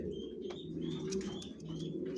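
Low, soft cooing of racing pigeons continues throughout, close by, with a few brief chirps and small clicks overhead.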